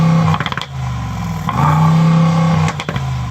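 A Mercedes performance SUV engine revs hard up to a soft limiter several times, each loud burst holding briefly before cutting back, with crackling pops and bangs between the revs.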